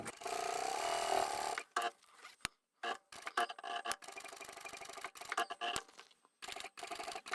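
A sewing machine stitches leather or vinyl along a zipper edge in quick mechanical bursts, starting and stopping several times with short pauses between runs.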